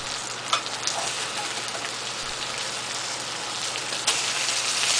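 Hamburger patties fry in a covered pan with a dense, steady sizzle like heavy rain, close and fairly loud, with a few faint pops and no talking.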